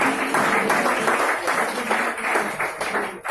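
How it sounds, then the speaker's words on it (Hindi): Students at a school function in Pilani clap loudly for a teacher, a continuous round of applause with distinct claps and no talk over it. "एक बार मैम के लिए जोरदार तालियां देते।"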